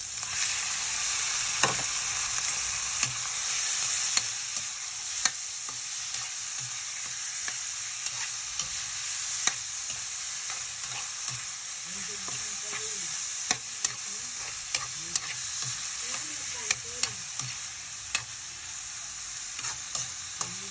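Chicken sautéing in a pan with melted tomatoes for a Filipino mung bean dish, giving a steady close sizzle with scattered stirring scrapes and clinks throughout.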